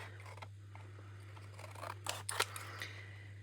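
Scissors trimming a paper tag backed with a piece of old Christmas card, giving a few faint, close snips and slides near the end over a low steady hum.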